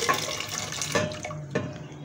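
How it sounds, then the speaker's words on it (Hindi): Chana dal tipped into a pot of boiling water in a home kitchen, heard as a steady watery rush with a couple of splashy pours, close and moderately loud with no voices. "सबसे पहले मैं इसको बॉयल पानी में डालूँगी"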